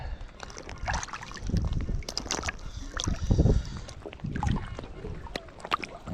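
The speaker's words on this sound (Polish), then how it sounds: "Wiaterek wieje." Wind gusts and buffets a microphone while someone searches for treasure in shallow water at Stepnica, with sloshing water throughout and louder gust bursts near the middle.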